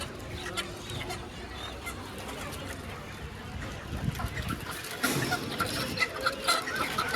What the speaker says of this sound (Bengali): বড় সাদা কক মুরগি সাদা কক